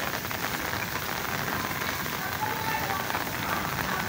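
Heavy rain in Karachi pours in a dense, steady hiss close by, with no break across the few seconds.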